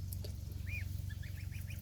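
Duckling and gosling chicks give a few thin, high peeping calls over a low, steady background rumble.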